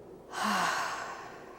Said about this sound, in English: breathe in gently, hold it for a couple of seconds, and then out nice and gently